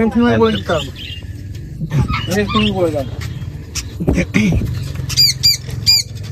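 Pet birds at a bird market in Serampore chirp and squawk in brief bursts, including sharp repeated high calls near the end, under steady crowd chatter and nearby talk.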